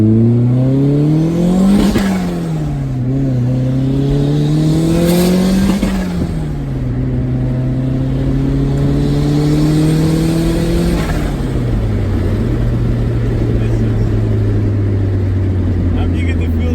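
A turbocharged 3SGTE engine in a Toyota MR2 heard from inside the cabin, its drone rising and falling through several rev climbs and gear changes, loud and close behind the seats, with people talking over it.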